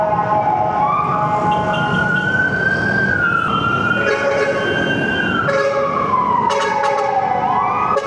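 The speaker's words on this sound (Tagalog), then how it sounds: "May ambulansya." An ambulance siren wails loud and close in chaotic road traffic, its tone sweeping up and down continuously over a dense rumble of vehicles, with no talking.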